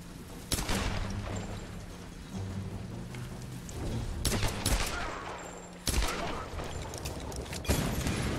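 Bursts of gunfire ring out in the Tomb Raider video game, sharp loud cracks over a dense rumbling wash of noise, with a few heavier blasts standing out.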